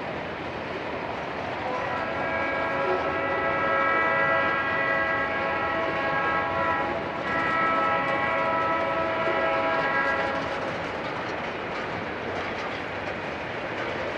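A Norfolk Southern train draws near, a loud, steady rumble of rail cars with sustained horn-like tones swelling through the middle and fading slightly toward the end.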